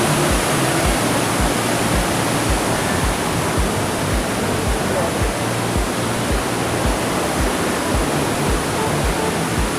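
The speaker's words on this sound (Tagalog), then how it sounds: "Sobrang lakas ng tubig." A powerful waterfall on a mountain roars as a loud, steady, continuous rush of pouring water close by, filling the whole clip without a break.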